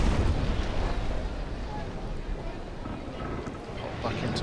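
Ship cannonades fire during a naval battle in the sailing-warship game Naval Action, a dense, continuous low rumble of booming gunfire and roaring noise throughout, loudest at the start.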